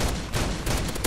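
Rapid gunfire from the MTA DayZ video game rattles in dense, loud bursts, shots coming close together across the whole moment with no pause.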